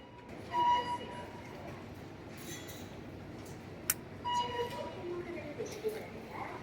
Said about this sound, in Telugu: ఇప్పుడే ట్రైన్ అయితే వచ్చేసింది, అందరూ బయటకు వస్తున్నారు.